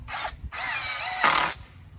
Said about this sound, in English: it's way easier to use an impact drill to do your work